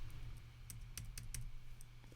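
Computer keyboard keys are pressed in a music-production setup using Ableton, a handful of sharp, separate clicks spaced irregularly over a quiet low hum.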